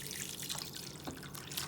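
Water poured into a Power XL electric pressure cooker holding pinto beans, a steady close splashing stream into the pot, with no talking.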